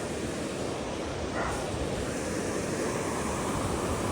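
The swollen, muddy Dhorpatan river rushes in a steady, loud broadband roar, unbroken for the whole stretch with no voices over it.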